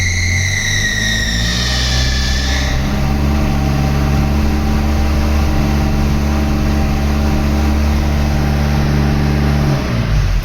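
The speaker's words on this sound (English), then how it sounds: "and we'll give it a bit of a rev up." A car engine idles then is revved moderately during a battery and charging system test with a Topdon BT100 battery tester, a steady loud close hum with a whine that rises and fades early, no talking.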